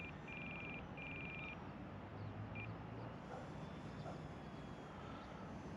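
A radio-controlled flat foam airplane on its maiden flight, flying slowly, gives a steady, faint electric motor and propeller drone from a distance, unbroken throughout with no talk.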